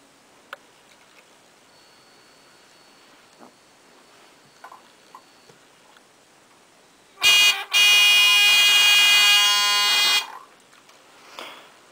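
After quiet ticks and faint clicks, a loud electronic buzzer on a homemade light-sensitive alarm circuit blares for about three seconds with a brief stutter, then cuts off.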